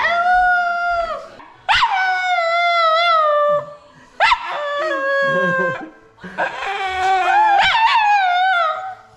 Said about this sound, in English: A little howling puppy?